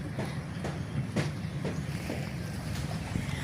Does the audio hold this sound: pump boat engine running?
yes